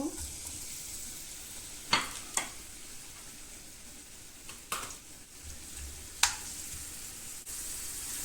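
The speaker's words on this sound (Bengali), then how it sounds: "পেঁয়াজ রসুন বেজে নেব" Chopped onion and garlic fry in hot oil with a soft, steady sizzle, broken by a few sharp spatula clicks against the pan at uneven intervals.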